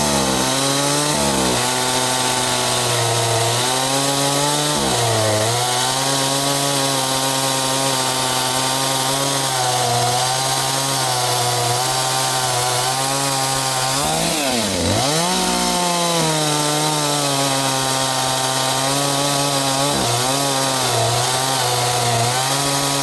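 A chainsaw runs steadily through maple wood, a close, loud, continuous buzzing whine with a brief dip in pitch partway through as the chain bogs in the cut, with no talking.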